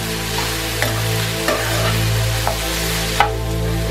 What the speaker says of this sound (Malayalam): കശുവണ്ടി ഇത്രയും ഇട്ടിട്ട് നന്നായിട്ടൊന്ന് വഴറ്റുക.